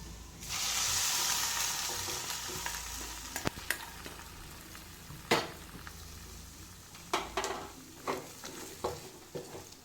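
Semolina for kesari stirred in a pan, a soft steady frying hiss interrupted by several sharp spoon knocks and scrapes against the pan.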